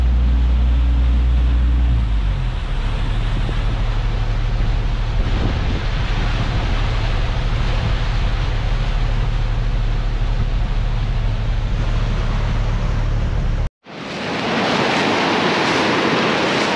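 Water from a drained pond rushes steadily downhill over rocks, a loud continuous broadband roar with wind buffeting the microphone at the start and a sudden cut to a brighter, harsher rush near the end.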